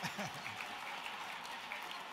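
Audience applause at a Hall of Fame speech, soft continuous clapping heard from a distance, with a voice briefly audible at the start.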